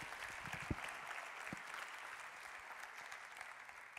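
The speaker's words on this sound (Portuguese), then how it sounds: "Você pode aplaudir o Senhor por isso?" A church congregation at a Brazilian worship service claps in praise. The applause is faint and distant, with a soft, even wash of hand claps and a few sharper knocks near the start.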